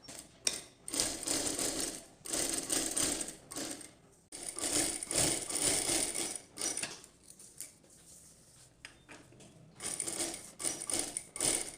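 A sewing machine running straight stitches on cloth, with a close mechanical whirring and clicking in bursts separated by brief pauses, and no voices.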